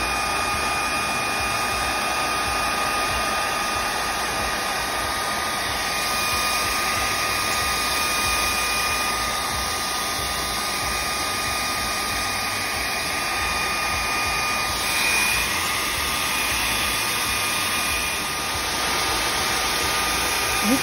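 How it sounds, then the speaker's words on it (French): A steady, loud whoosh of a hair dryer blowing paint across paper sheets continuously, with a faint high whine running underneath throughout. "à l'aide de mon sèche-cheveux, je vais éparpiller la peinture sur les feuilles"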